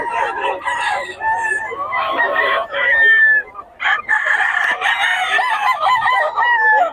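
Several roosters crow one after another at close range in Bocaue, the long strained calls overlapping in near-continuous succession, with scattered clucking from other fowl in between.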